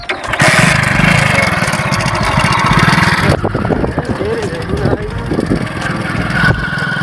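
Motorcycle engine running loudly nearby, a steady rough chugging drone that shifts partway through as it starts moving, with a voice speaking over it.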